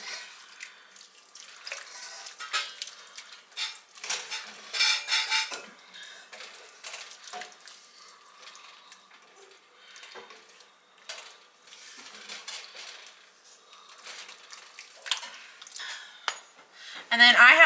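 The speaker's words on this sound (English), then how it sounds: "Give this a really good stir." A spoon stirring sour cream into a bean mixture in a pot, giving soft, irregular scraping and clinking against the pot through the whole stretch, with no voice.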